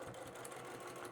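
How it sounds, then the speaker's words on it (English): Sewing machine top stitching along a fabric edge on a patchwork drawstring bag, a steady, close mechanical whir running briefly and evenly with no talking. "We're going to do some more top stitching, so I'm right along this edge."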